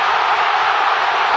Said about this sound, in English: A crowd!